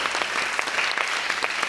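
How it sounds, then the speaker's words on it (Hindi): Studio audience on a TV talk show clapping steadily, a dense, even patter of many hands at moderate level with no voices over it. "भाई आयज़ा के लिए तालियां बजाओ"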